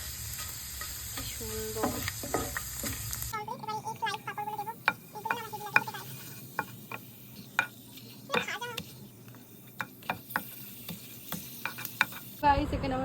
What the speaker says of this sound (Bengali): গাইস, এখানে আমার পাঁপড় ভাজা কমপ্লিট